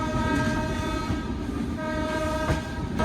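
A loud, sustained horn from the Bihar Sampark Kranti Express locomotive blares over the steady rumble of the moving train, with a brief swell partway through.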